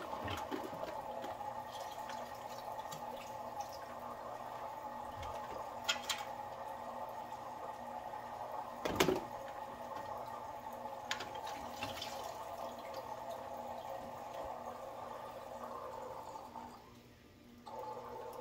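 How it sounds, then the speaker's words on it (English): A submersible aquarium water pump runs steadily, water flowing and gurgling continuously at moderate level, with a brief louder splash midway and a dip near the end as the flow quiets. "But let me quiet this one pump down."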